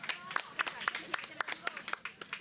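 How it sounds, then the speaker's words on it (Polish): A small audience at a DIY contest in a Castorama store in Gorzów claps in a quick, steady rhythm of sharp, fairly close hand claps, with no talk over them. "Ale brawa dla Mieszka!"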